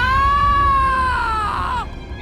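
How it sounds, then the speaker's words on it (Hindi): A male assistant screams as a sound effect in a Hindi horror story narration. It is a loud, sustained, high-pitched scream that slowly falls in pitch for almost two seconds, then breaks off into a quieter tail. "असिस्टेंट चीखता है"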